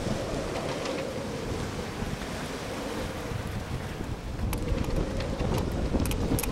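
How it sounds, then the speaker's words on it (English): Strong gusts of over 40 knots roar across a boat at anchor in a storm, a constant heavy rushing of wind and buffeting on the microphone mixed with churning water. "These gusts are over 40 knots."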